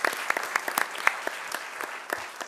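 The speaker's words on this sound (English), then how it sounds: "I'd like to give him a round of applause" A modest room of people at a city meeting gives a round of applause, with sharp, separate claps from a small group that stay fairly faint and thin out toward the end.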